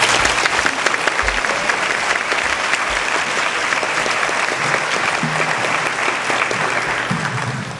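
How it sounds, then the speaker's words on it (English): Loud, sustained applause from a large audience at a high school National Honor Society induction, welcoming a speaker. Dense clapping continues evenly throughout, with a few faint voices and shuffles beneath. "please give a warm round of applause to Peter Davis."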